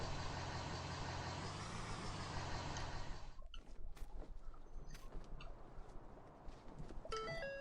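A deep, rumbling flex fuel V8 truck engine in a video game idles steadily, then revs and settles into a rougher, uneven running with scattered clicks and higher tones near the end.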